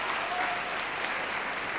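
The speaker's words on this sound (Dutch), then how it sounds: "En een applaus nog even." Steady applause from a studio audience on a television talk show, a dense, even wash of clapping at moderate level with no voices.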